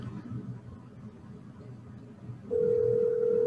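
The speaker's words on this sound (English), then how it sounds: "It rang once." An outgoing phone call rings through the earpiece, a steady electronic ring tone starting partway through after a quiet stretch of low background noise.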